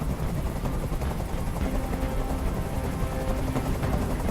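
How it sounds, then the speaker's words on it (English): A helicopter hovers overhead during a hostage standoff in the game Detroit: Become Human, a steady low rotor rumble holding at constant loudness throughout with no voices. "I can't stand that noise anymore. Tell that helicopter to get out of here."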